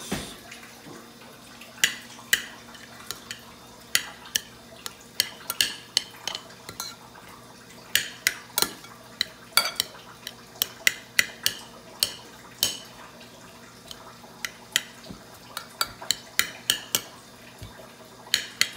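Basmati rice and mushrooms seasoned with salt, pepper and cardamom are mixed in a pot, with a long irregular run of sharp spoon clinks and scrapes against the pot over a quiet background and no talk.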